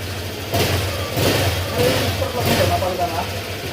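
Motorcycle engine upgraded from 125cc running close up, a rough steady rumble that swells in a few revving surges, with a person talking over it.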